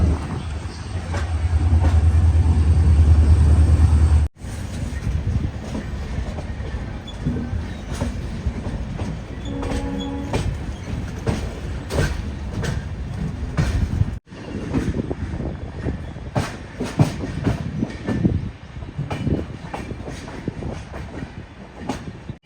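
Train running on rails near Bhagat Ki Kothi, Jodhpur, on an InterCity Express from Jodhpur to Ahmedabad: steady loud rumble with clickety-clack and rail noise throughout, no talking.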